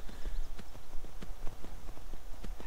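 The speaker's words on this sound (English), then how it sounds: "I'm going to get on my horse now, and ride into the sunset" Hooves of a horse clip-clop in a steady walking rhythm, sharp close knocks repeating roughly every quarter second over a low rumble.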